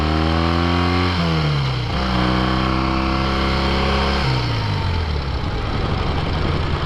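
A 1968 Triumph Bonneville cafe racer motorcycle engine roars loud and close while riding, its pitch stepping up through gear changes in repeated rising pulls, no talk.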